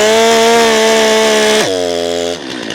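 A chainsaw engine revs hard and close, holding a loud, buzzing high pitch, then drops quickly to a lower idle drone that fades near the end.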